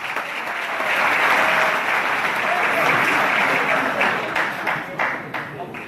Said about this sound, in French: Applaudissements s'il vous plaît pour Monsieur Lagrève.